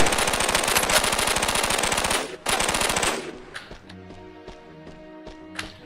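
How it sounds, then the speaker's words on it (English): Rapid continuous machine gun fire from the video game OPSL rattles loudly for about three seconds with a short break, then gives way to scattered lighter clicks and taps. "even with a machine gun I get really precise shooting"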